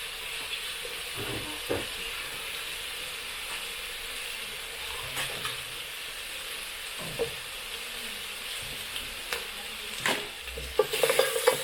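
A spoon stirs beef stew with pulled chili in a pot over a village cooking fire, soft scraping strokes and a low simmering hiss with occasional knocks, louder clatter near the end, close up and without talk.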